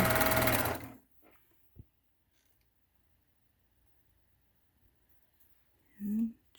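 A sewing machine stitches down the edge of a face mask tie in one loud, brief burst of motor whirring, followed by near silence with a couple of faint clicks and a short creak at the end.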